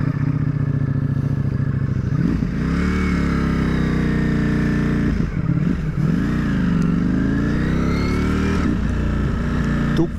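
A 2023 Ducati Streetfighter V4 S with a 1,158 cc Euro 5 V4 engine revs hard, its loud, close roar rising and falling through several throttle blips over a continuous rumbling idle.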